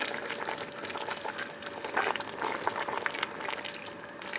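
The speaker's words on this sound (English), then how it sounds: "So I got all the greens in one pot now. And we just let it cook." Turnip greens simmer in a pot of water over medium-high heat, giving a steady, close bubbling and hissing that runs without a break and has no talking over it.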